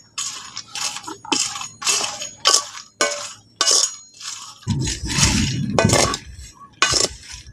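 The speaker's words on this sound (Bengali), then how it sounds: "এই খোলা সমেত বাদামগুলো কিন্তু বালি দিয়েই ভাজতে হবে এইভাবে করে একটু নাড়াচাড়া করতে হবে" In-shell peanuts are stirred through hot sand in a pan, giving repeated bursts of gritty, rattling scraping at a steady rhythm, close and fairly loud, with a rougher, heavier churning stretch near the end.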